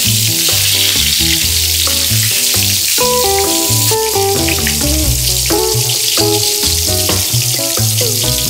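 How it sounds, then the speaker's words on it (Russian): Pieces of fish fry in hot oil in a pan, a steady loud crackling sizzle running throughout with no voices, while soft background music plays along underneath. "Сковородка очень приятно шкварчит."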